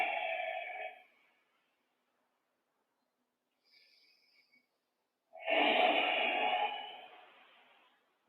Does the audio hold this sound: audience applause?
no